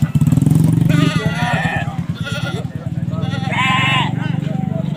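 Goats and sheep bleat at a busy livestock market, several wavering cries over steady crowd chatter and a low motorcycle-like engine hum, with people talking throughout.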